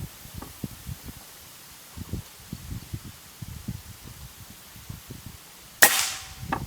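A single sharp shot from an X-Trabig Goblin double-plenum air rifle cracks out near the end, loud and close, after several seconds of low wind buffeting and faint rustling.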